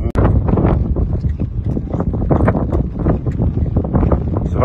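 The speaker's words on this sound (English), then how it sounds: "Hot, dry wind blowing." Hot, dry wind in the Sahara Desert near a gold processing plant in Morocco, buffeting the microphone with a loud, continuous low rumble and gusty flutter.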